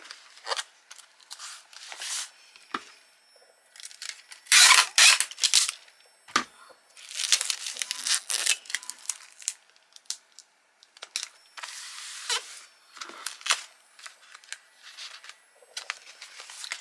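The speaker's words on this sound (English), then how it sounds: "I just use some thick parcel tape, just the clear stuff, and I just pop that onto there like so." Thick clear parcel tape is pulled and pressed onto a small business shipping package in bursts of loud ripping and crackling close by, with brief pauses between strips and no talk.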